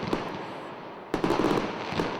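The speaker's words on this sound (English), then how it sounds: "To finish, a big fireworks display to thank the firefighters." Fireworks going off at a big display honoring firefighters: sharp crackling bursts and pops in quick succession, with a louder volley of bangs partway through, echoing outdoors.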